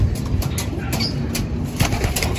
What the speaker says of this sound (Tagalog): Ayun yung mga kalapati natin